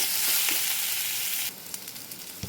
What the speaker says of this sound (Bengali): ভালো করে পেঁয়াজটা ভাজা ভাজা করে নিতে হবে।